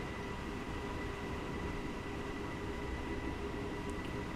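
A DB BR426 electric multiple unit runs in the game Train Simulator 2016 on a Munich to Garmisch route, giving a steady, even rolling rumble with a faint constant motor whine, unbroken and without voices.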